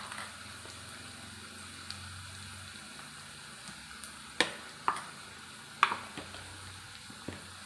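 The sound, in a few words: stirring frying onions with chili powder in a pan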